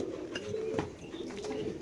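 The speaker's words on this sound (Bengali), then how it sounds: "একটা মাদি কবুতর, খাঁচা নাম্বার 39, আফসান গিজেল মাদি" Female Afsan grizzle pigeon in a cage, soft low cooing close by against a faint background hum of other birds.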